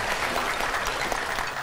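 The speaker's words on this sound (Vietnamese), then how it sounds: "Xin cho bạn nam một tràng pháo tay ạ." Studio audience applause on a dating show, a brief, dense burst of clapping from a crowd at moderate volume.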